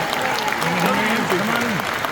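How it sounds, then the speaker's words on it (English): An audience at the Card Party 2 Pokémon event applauds the creators, a dense wash of crowd clapping with excited voices and talking layered over it. "Let's give a big hand and a round of applause"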